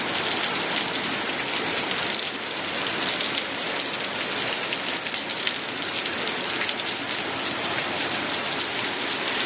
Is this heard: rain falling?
yes